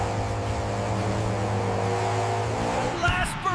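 Cartoon monster trucks race along a track with a loud, steady engine roar and revving that holds throughout, with a brief scrape or splash near the end.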